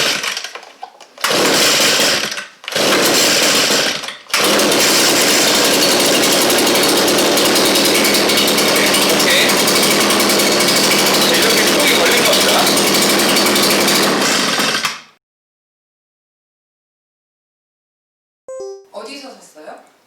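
A Tiako TC600A handheld engine blower is recoil-started with a couple of short pulls that catch briefly, then roars steadily and loudly for about ten seconds before shutting off; faint sounds follow near the end.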